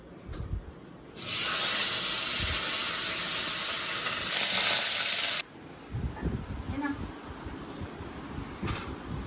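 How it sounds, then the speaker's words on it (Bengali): Chara fish frying in a hot pan gives a loud, dense sizzling hiss that erupts suddenly, holds for about four seconds, then cuts off, leaving faint kitchen clatter and quiet talk. "চলো মাছগুলো ভাজি, চারা মাছের ঝোল হবে।"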